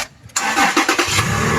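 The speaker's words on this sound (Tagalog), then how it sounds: "start po natin yung engine" A Toyota Land Cruiser LC150 full-size 4x4 SUV engine cranks for a moment, then fires and settles straight into a steady, close idle.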